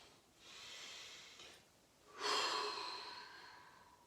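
Soft breathing during a four-point mobility stretch: a gentle breath followed by a stronger, airy exhale, close and quiet.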